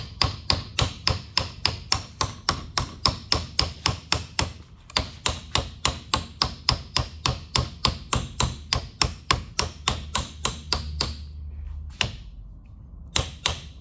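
A small ball peen hammer strikes a Bravura trumpet in a rapid, steady series of sharp metallic blows, dozens of close, loud hits with brief pauses near the end.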